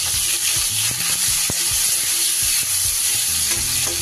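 Cauliflower pieces dropped into hot oil with tempering spices, giving a loud, steady, close sizzle with occasional knocks of a spoon.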